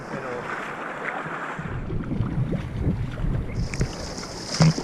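Steady wind roars and buffets across open water during a kayak outing, a constant broadband rush with faint splashes and paddle knocks near the end.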